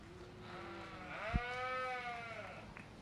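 Hampshire sheep at a livestock show give one long, clear, loud bleat with a wavering tone, over a steady hum of show-ring background noise.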